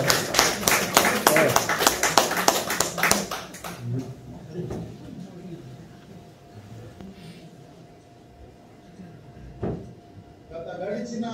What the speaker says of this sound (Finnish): Aplodit Jormalle.